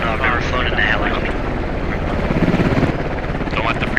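Helicopter rotor and engine drone, loud and close, thudding steadily with a faint pulsing beat while people talk and call out over it throughout.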